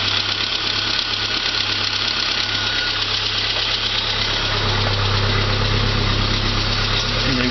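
A Saab 900 engine idles steadily after a loss of oil pressure, a loud continuous rumble with a low throbbing hum and a faint knocking texture, close and unbroken throughout.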